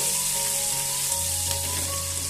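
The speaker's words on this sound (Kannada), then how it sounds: "ಕರಿಬೇವನ್ನ ಆಡ್ ಮಾಡ್ಕೊತಾ ಇದ್ದೀನಿ. ಚೆನ್ನಾಗಿ ಫ್ರೈ ಆಗಲಿ." Curry leaves and dry chilies frying in hot oil for a tomato rasam, a dense continuous crackling sizzle, close and steady with no voices.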